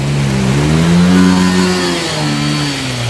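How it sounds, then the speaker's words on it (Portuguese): Motorcycle engine revving steadily while crossing a flooded bridge, a continuous mid-pitched drone that swells slightly and holds close and loud throughout with no talk over it. "Aí vem um de moto ali, vem um de moto ali, ó."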